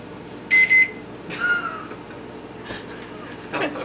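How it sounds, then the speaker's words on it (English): A Chinese-made microwave oven sounds two sharp electronic beeps close by, followed by fainter clicks and rustling. "How to do the double beeps without pressing it?"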